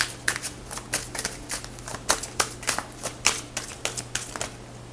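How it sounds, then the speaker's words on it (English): Tarot cards shuffled by hand in a steady run of crisp riffling bursts, close and fairly loud over a low steady hum, with no talking. "let me start shuffling and getting focused on the energy"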